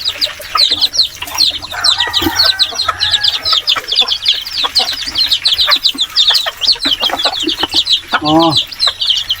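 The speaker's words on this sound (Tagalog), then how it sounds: "Pinaparami ko itong ating native na manok." Native chickens cluck and chirp close by in a farmyard, a busy, continuous run of short calls with a louder squawk near the end and light background noise.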